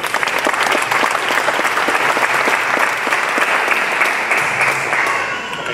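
An audience at a transport talk applauds loudly and steadily for several seconds, the clapping dense and close before easing slightly at the end.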